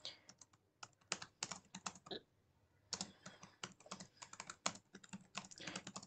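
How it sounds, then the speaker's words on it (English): Close, quiet computer keyboard typing comes in irregular bursts of crisp key clicks, with a brief pause in the middle before the tapping resumes. No one speaks. "so let me type in an input here."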